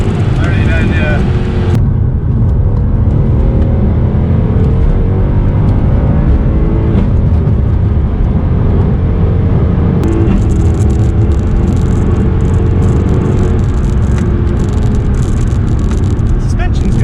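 Tuned Mercedes C63 AMG doing a rolling burnout, its engine and spinning wheels giving a steady, loud roar and whir from start to finish, with people talking in the car over the noise.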